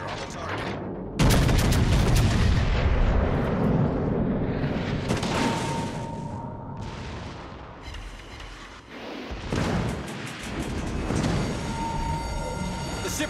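Warships fire cannons in a video game, with loud heavy barrages that boom and rumble almost without pause, and a few short gaps between volleys, and bursts of metallic crackle on top.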